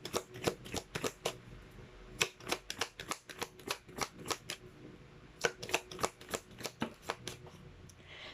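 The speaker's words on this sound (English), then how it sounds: "let's pull up more cards" Tarot cards being shuffled and drawn, a run of crisp snapping card flicks in two quick bursts separated by a short pause, close and clear with no talk.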